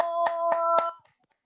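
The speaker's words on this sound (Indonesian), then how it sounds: "Tepuk tangan Di sekali lagi deh buat OSIS 51" Three sharp, evenly spaced hand claps for the OSIS 51 student council sound close by over a steady sustained tone, then cut off into silence after about a second.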